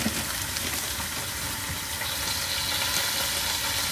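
Shoulder roast and a whole bag of potatoes searing in a quick cooker, giving a steady, close sizzle and hiss of frying with faint bubbling throughout, no voices.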